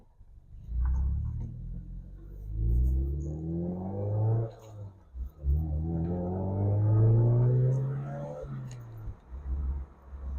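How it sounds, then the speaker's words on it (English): A Mazda MX-5 fitted with an aftermarket Cobra exhaust drives along, its engine note rising and falling through gear changes with a deep, rumbling tone that stays loud and close throughout. "This car has a Cobra exhaust system on it, which is not standard, as I'm sure most of you are probably aware, but my God, does it sound good."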